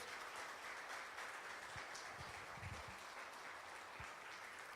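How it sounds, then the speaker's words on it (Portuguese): Church congregation applauding during a sermon, a steady wash of clapping from many hands filling the room, fairly distant and even throughout with no talk over it. "Aplauda o Senhor Jesus, igreja"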